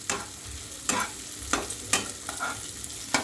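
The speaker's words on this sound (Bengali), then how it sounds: "ঘিয়েতে একটু ভেজে নিচ্ছি ফ্লেভারটা ভালো আসবে" Cashews fry in ghee in a kadai for carrot halwa, giving a bright continuous sizzle with several sharp scraping stirs of a spoon against the pan, close and without any voices.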